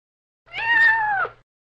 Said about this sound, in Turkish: Bu bir kedi.